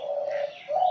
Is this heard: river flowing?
no